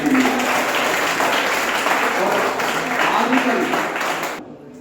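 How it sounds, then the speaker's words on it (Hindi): An audience at a talk on quitting addiction applauds together, a loud sustained wash of clapping with voices mixed in, which stops abruptly near the end. "एक बार सब लोग तालियां बजाएं"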